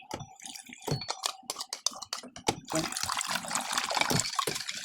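Water splashes and trickles into a wok while making Filipino siopao, a close, busy pouring sound that swells into a steady rush in the second half with no talk over it.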